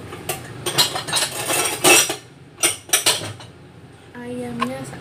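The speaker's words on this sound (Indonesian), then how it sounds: "terus sekarang saya memotong ayamnya" A knife cuts through two chicken thighs on a board, with a series of sharp clinks and scraping knocks in uneven bursts, followed by a short tonal squeak at the end.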